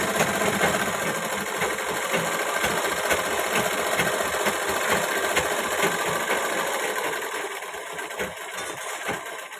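An electric sewing machine runs a continuous line of stitching along a ghagra skirt, its motor giving a loud, steady rattling whir close up that barely changes throughout, with no voices.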